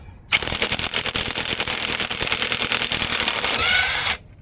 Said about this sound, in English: I got to take this axle nut off.